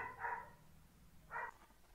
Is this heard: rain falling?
no